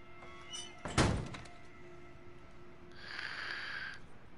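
A door in The Last of Us video game shuts with one loud heavy thunk, followed by a quieter sustained hum and a faint later tone, with no speech.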